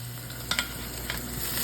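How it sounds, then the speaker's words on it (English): Beef pot roast sears in a hot pan with a steady close sizzle, broken by a couple of sharp crackles and pops. "We're going to sear it all the way around."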